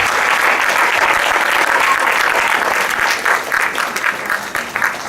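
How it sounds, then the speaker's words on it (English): At a 2015 school annual day, the crowd breaks into a big round of applause for the children, loud, continuous clapping that gets choppier and thinner over its last couple of seconds. "I want you to give a big round of applause for the kids as well"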